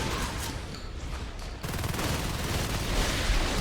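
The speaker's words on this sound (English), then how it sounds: "Shotguns are going off." Dense gunfire rolls through an esports match of a military shooter, shotguns among the weapons, with a steady rattle of overlapping shots that thickens and grows louder partway through.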